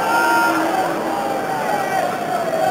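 Crowd of over 40,000 at a 1991 Middlesex Sevens rugby match in a stadium, a loud continuous roar of voices and cheering with a commentator talking over it.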